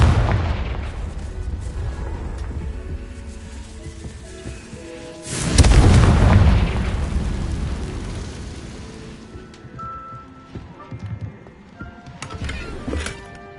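Confringo fire spell blasts in Hogwarts Legacy on PS5, booming explosions over a rumbling game soundscape, with one loud blast midway and smaller bursts later; no talk.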